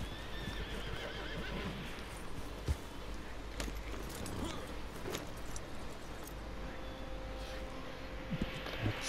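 A horse in Red Dead Redemption 2 Online whinnies and snorts close by while hooves clip-clop, with occasional jingling tack and a brief tonal chime over a steady game backdrop.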